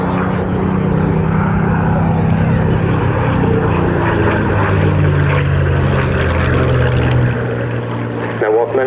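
Steady, loud drone of a propeller-driven display aircraft at an airshow, flying a routine derived from the Hurricane, filling the whole stretch, with a commentator talking over it.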